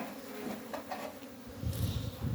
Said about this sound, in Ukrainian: Бджолка летить.